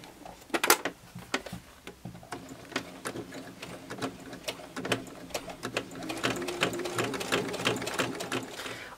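Sewing machine stitching a fabric wallet panel, a close mechanical whirr in short and longer bursts with ticking clicks and handling noises between runs, building to a steadier run near the end.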